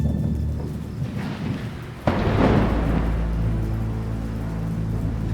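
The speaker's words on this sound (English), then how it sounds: "A crack of thunder boomed above them, and heavy rain began to pelt the lake." A sudden thunder crack during a storm over a lake breaks in midway and rolls into a deep rumble, with heavy rain pelting steadily and loudly throughout.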